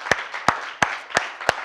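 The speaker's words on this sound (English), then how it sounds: "Give him a hand clap this morning." A church congregation claps in a steady rhythm at a Sunday morning service, five sharp collective claps spaced evenly apart and ringing in the room, with no voices over them.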